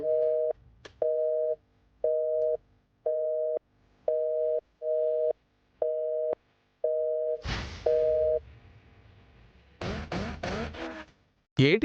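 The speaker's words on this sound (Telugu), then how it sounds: "బిజీ వస్తుంది నాన్న." Repeated beeps of a telephone busy signal pulse evenly in a steady on-off rhythm, roughly one per second, then stop as a voice speaks briefly afterward.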